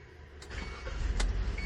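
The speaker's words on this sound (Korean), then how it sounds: "제가 시동을 껐다가 다시 한번 걸어보도록 하겠습니다." A 2017 Kia Carens LPG engine cranks and starts, heard from inside the cabin as a brief rising mechanical whir that settles into a quiet, steady low idle hum.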